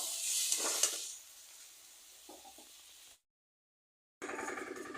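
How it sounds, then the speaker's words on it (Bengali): Spices sautéing in a pan with turmeric and Kashmiri chili water for vegetarian ghugni, a bright loud sizzle at first that settles into softer frying, breaks off into silence, then resumes. "আর দিয়ে দিচ্ছি হলুদ আর কাশ্মীরি লঙ্কার জল দিচ্ছি মশলাটা ভালো করে কষাই করে নেব"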